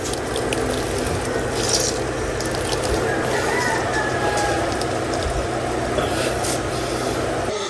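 A coconut grating machine runs steadily while shredding coconut for coconut milk, a constant loud mechanical whir and rattle throughout with no pauses.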